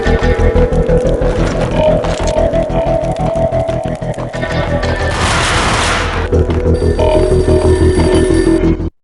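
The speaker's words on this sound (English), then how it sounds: "A beaten-up phone in the entrance hall was ringing." An old, beaten-up telephone rings in an entrance hall in the Max Payne video game, a loud, continuous metallic bell ringing lasting several seconds over a dense, booming game soundscape.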